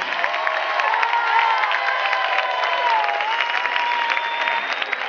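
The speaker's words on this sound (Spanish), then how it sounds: "que se oiga ese aplauso otra vez." Crowd at a drag queen gala during the Maspalomas carnival applauds and cheers continuously, a steady roar of clapping with high whistles and shouts riding over it.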